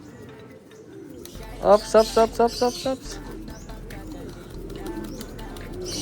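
Pigeons pairing off give a series of about five clear, rhythmic coos close by, over a low background hum and faint rustling, with someone talking briefly nearby.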